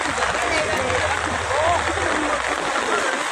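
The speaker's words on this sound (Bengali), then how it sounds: "কামরাপুর ব্রিজের মানে চুই চুই পানি প্রবাহিত হচ্ছে" River water flowing beneath the Kamrapur bridge on the Khowai river, a steady broad rushing and splashing heard close and loud throughout.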